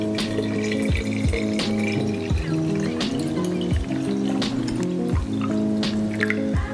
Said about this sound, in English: we're just gonna fill up the rest with some water